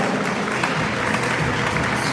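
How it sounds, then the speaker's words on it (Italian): Spectators at the closed-door finals of a regional elite tournament in Veneto, mostly technicians and fans, applaud in a continuous, even wash of clapping that stays loud and steady throughout. "Prego un applauso!"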